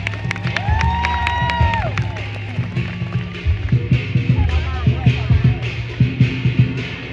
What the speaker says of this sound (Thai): ขอเสียงปรบมือให้นักแสดงของเราอีกครั้งหนึ่งหน่อยครับ